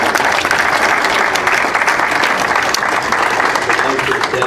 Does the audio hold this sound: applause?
yes